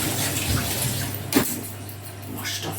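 Kitchen tap running steadily while hands are rinsed under it, with a continuous close wash of water and a brief splash partway through.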